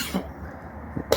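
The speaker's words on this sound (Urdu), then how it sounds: "مجھے کھانسی بہت آ رہی تھی" A person who is ill coughs a few short times in a quiet room, soft and close, with brief gaps of near-silence between the coughs.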